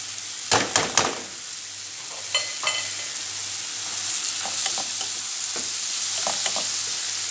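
Bitter gourd (ampalaya) dropped into a hot pan, a few sharp clattering hits up front, then a steady hiss of frying with occasional stirring scrapes.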